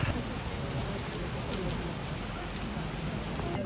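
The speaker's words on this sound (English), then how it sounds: "it's like really, really hard rain" Very hard rain pours outdoors in a dense, loud, steady roar of drops hitting surfaces close by, continuous for the whole stretch with no speech.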